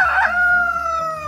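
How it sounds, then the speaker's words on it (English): A homestead rooster crows on a morning outdoors, one long loud cock-a-doodle-doo held and trailing off, close and alone. "The roosters are singing you lots of songs."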